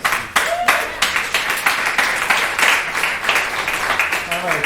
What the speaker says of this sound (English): I just love applause before I even say anything.